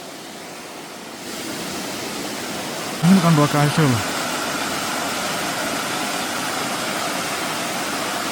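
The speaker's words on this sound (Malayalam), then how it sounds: "ഇത് അപകടം പിടിച്ച വെള്ളച്ചാട്ടം." Tyrshi Falls in Meghalaya gives a steady, loud broadband roar of falling water that goes on throughout, with a person speaking briefly over it.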